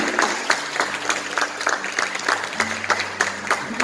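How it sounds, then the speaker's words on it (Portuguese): Church congregation applauding the Lord, a burst of clapping with distinct rhythmic hand strikes, close and moderately loud, over a low hum for a few seconds. "Aplauda o Senhor aí."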